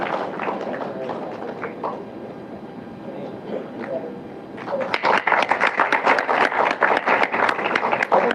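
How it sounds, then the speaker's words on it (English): An audience at a graduation event breaks into applause for honored guests, loud, dense clapping that swells midway and holds, with talk heard beneath it before it begins. "huge round of applause while we honor our guests here today"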